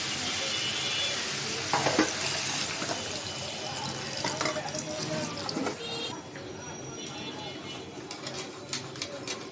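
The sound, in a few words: stirring and frying chicken with potatoes in a pot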